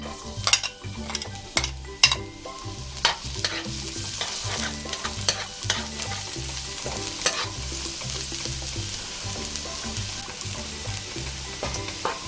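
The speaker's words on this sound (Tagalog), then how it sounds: "Ngayon po ay igigisa na natin ang ating bawang." Garlic sautés in a little oil in a pan with a steady, moderate sizzle under repeated sharp scraping and clacking of a utensil stirring. A low humming tone runs underneath, and no one speaks.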